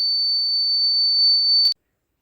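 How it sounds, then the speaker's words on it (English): A homemade fire alarm buzzer sounds one continuous, loud, high-pitched piezo tone, steady for under two seconds before it cuts off abruptly into silence. "So the buzzer beeps and the LED glows."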